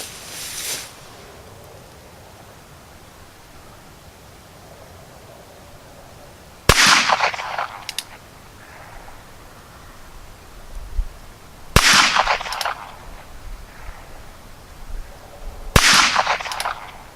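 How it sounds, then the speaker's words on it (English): Ruger Wrangler revolver fired at 5 yards outdoors: a faint blast at the start, then three loud, sharp gunshots spaced several seconds apart, each with a brief echo tail, with quiet ambience between shots and no talking. "we're going to shoot it at 5 yards to start"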